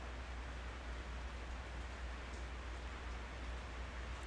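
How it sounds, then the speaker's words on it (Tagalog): Heavy rain pours in a steady, even hiss with no breaks, heard at a low level. "Lakas ang ulan guys, kung nakarinig nyo yan."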